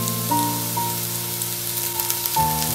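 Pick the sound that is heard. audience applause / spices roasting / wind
spices roasting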